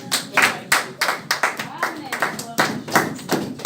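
A church congregation claps for the word of God during a service, rhythmic loud bursts of many hands close by, with voices mixed in.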